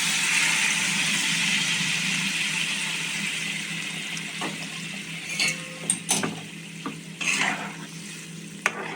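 Water poured into a pan of sweet and sour mango chutney, a steady sizzling hiss easing off, then scattered clinks and scraping stirs near the end.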